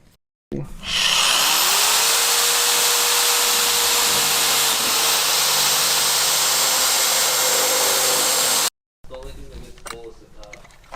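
A power drill drills a hole in a car bumper, whirring loudly and steadily for several seconds, winding up at the start, then cuts off abruptly before a voice speaks briefly.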